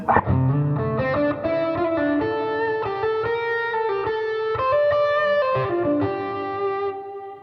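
Electric guitar played through a Fender Super amp at low volume with an overdriven, effects-laden tone, sustained chords and melodic notes ringing steadily and close for several seconds without any talking.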